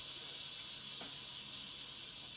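Steam hissing out of a new, modern pressure pot in a home kitchen, a faint, steady, unbroken hiss throughout.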